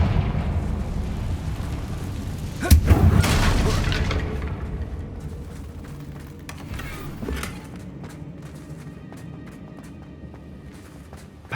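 A Confringo blasting spell explodes in Hogwarts Legacy, one heavy booming blast followed by a long rumbling decay and scattered debris crackles, loud and close.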